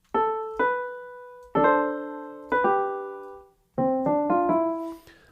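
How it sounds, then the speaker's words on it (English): Sampled acoustic upright piano from an Ableton Live instrument rack plays four struck chords in turn, each ringing and decaying before the next, ending with a quicker run of chords, clean and close. "I loaded up the acoustic piano upright from the instrument rack"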